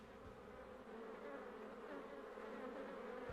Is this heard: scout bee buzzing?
yes